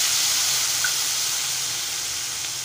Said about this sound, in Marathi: आता बारीक चिरलेला टोमॅटो घालूया